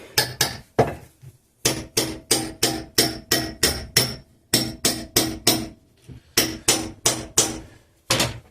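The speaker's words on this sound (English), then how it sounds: "Get a chisel in there." Repeated sharp hammer blows drive a chisel into a Ford Powershift gearbox during a strip-down, landing in quick close bursts of metallic strikes with ringing clinks and brief pauses between groups.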